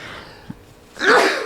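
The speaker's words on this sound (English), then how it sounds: "I'm gonna sneeze." A single sudden human sneeze, close and loud, after a short sharp intake of breath.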